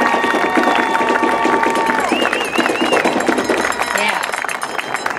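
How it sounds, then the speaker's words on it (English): A crowd at the Colusa High School graduation for the class of 2020 claps and cheers in a loud, continuous roar, with whistles and shouts rising above the dense applause. "Can we just give them a round of applause again?"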